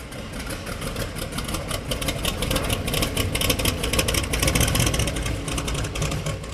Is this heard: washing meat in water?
no